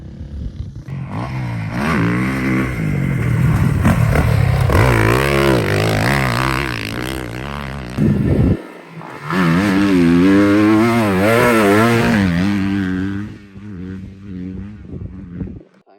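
A dirt bike working through rollers on a motocross vet track, engine revving up and down in loud rising and falling surges, briefly cutting out near the middle before roaring back and fading.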